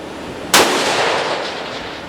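A single sharp rifle shot from a 7 PRC fired at a 1,200-yard target, cracking loudly about half a second in, with a long rolling echo trailing away across open country.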